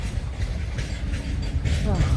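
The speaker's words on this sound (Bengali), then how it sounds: "সাইডে ট্রেন যাচ্ছে, মালগাড়ি।" A freight train rolls past alongside a road, a low continuous rumble with a faint rattle of wagons, fairly close and steady throughout.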